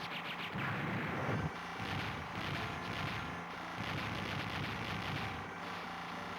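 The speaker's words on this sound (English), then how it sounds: "If it's a turret and it's shooting at me, it must die." Turret gunfire and explosions in an arcade shoot-em-up video game form a dense, continuous barrage of rapid shots and blasts that rumbles steadily throughout with no pauses and no voices.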